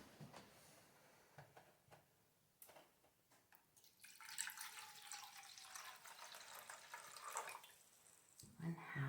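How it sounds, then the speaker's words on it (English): Water runs steadily into a liquid measuring cup for playdough, a bright splashing pour that swells partway through and continues for several seconds, with faint clatter nearby. "we're going to pour 1/2 cups of water into our liquid measuring cup."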